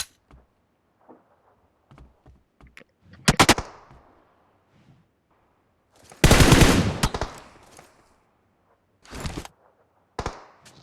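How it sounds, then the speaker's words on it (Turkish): Gunfire in the mobile game PUBG Mobile, with scattered single shots, a few short bursts and a long rapid automatic volley, loud and sharp against near silence between bursts. "Adam iyi sıkıyor vallahi iyi sıkıyor"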